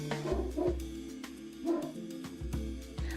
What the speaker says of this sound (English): I think my dog's barking at someone right now